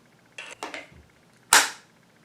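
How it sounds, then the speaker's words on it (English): A shotgun's forend is fitted back on while the gun is prepared for turkey season: a few light metallic clicks and scrapes, then one loud, sharp, close clunk as it locks into place, ringing briefly before fading, with no talking. "we reattach the forend"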